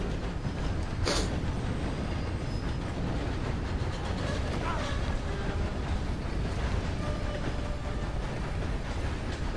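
A train in a video game rumbles along continuously with a dense, steady roar of wheels and rail noise, loud and close throughout, with a brief sharp hiss or screech near the start.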